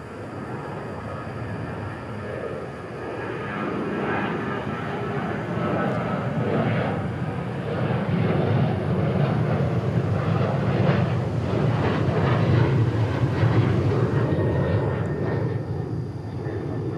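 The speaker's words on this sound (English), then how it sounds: "American 1104 going to Boise on a 737-800" An American Airlines Boeing 737-800 jet departs DFW International Airport bound for Boise, its broad engine roar rising steadily and staying loud and near throughout, with a faint voice heard underneath.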